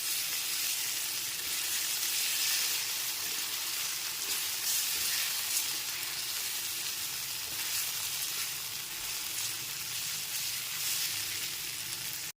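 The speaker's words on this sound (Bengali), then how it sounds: "আদা রসুন বাটাটা খুব ভালো করে কষাচ্ছি" Ginger garlic paste sautés in a hot pan for chicken kosha, giving a steady, close, even sizzle that runs unbroken throughout with no voices.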